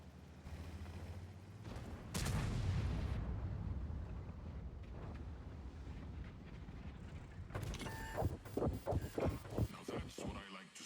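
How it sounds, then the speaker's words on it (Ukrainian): Artillery shell fire in the tank game World of Tanks lands as a heavy booming blast with rumbling aftermath, followed by a burst of sharp impacts and clanks, while someone talks over the game. "цікаво, цікаво, арта кинула, дуже цікаво"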